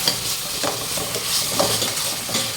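Ginger garlic paste for fish curry is stirred in a hot pan, a steady close sizzle with soft repeated scraping strokes of a spoon running through it, no voices.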